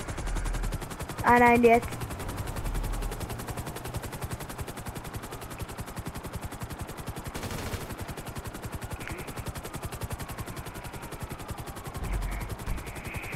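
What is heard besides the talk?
gunfire from player shooting in a video game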